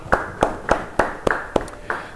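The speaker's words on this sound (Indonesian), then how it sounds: "beri tepuk tangan buat Tuhan." A church congregation claps in a loose rhythm, about seven sharp claps roughly a third of a second apart, fairly close and with no talking.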